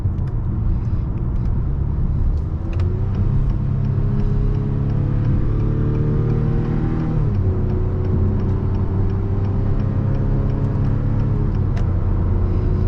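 A 2022 Acura TLX with a 2.0-liter turbocharged four-cylinder and 10-speed automatic under way, steady engine drone and road rumble from inside the cabin, with rising revs that drop sharply at a gear change midway, then climb again.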